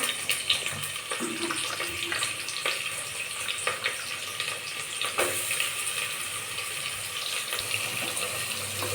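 Chopped onions sizzle in hot ghee with a steady, close crackling hiss that holds for the whole stretch, faint pops scattered through it.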